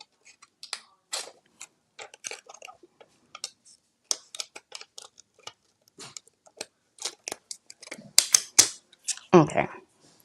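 Material for a wooden craft sign is cut with scissors: sparse, close snipping clicks come in irregular short bursts with quiet gaps, busier near the end.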